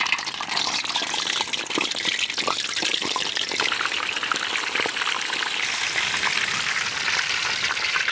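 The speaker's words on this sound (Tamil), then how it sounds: "வாழைப்பழம் பொரிச்சு எடுத்துக்கலாம்" Banana fritters deep frying in oil at an outdoor village kitchen, a steady loud bubbling and hissing roar that runs unbroken throughout, close and without talk.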